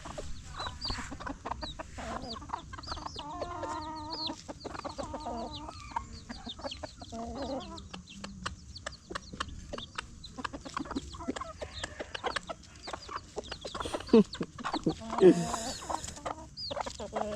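Hens cluck and peck as they eat at an African farmyard building site, with a busy mix of soft clucks and scratching close by and occasional people talking under it.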